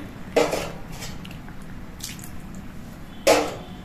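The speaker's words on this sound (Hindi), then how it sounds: "आधा बाउल मैंने इसमें पानी डाला।" Water poured into a bowl of ridge gourd masala in a home kitchen: two brief splashy pours against quiet background, with a faint clink of utensils between them.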